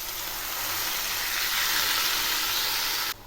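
Pumpkin greens dropped into a pan of nearly fried potatoes with salt and turmeric set off a steady, close hiss of sizzling that holds evenly throughout and then cuts off abruptly at the end.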